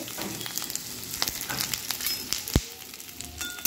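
Onions fry in hot oil in a kadai while being stirred, giving continuous close sizzling with a sharp scrape or knock partway through and no talking.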